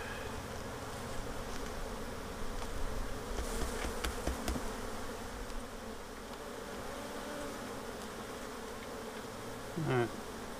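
Honey bees buzzing around an open beehive during an inspection, a dense, continuous hum close by with a few knocks and a brief squeak near the end, no speech.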